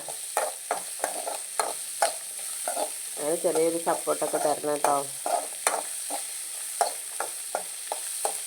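Onions fry in a pan while a spoon stirs them, giving a steady sizzle broken by regular scraping strokes, with a person talking over the cooking for a few seconds midway.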